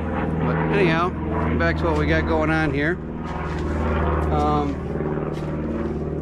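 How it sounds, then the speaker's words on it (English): A propeller airplane drones low and steady overhead near an airport, a continuous rumble lying under a voice as he talks through it. "Sorry for the plane overhead there."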